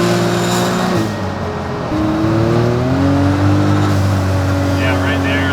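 Can-Am X3 side-by-side with a clutch fault driving along, its engine droning and shifting pitch while a loud rattle and vibration runs through the machine, close and continuous.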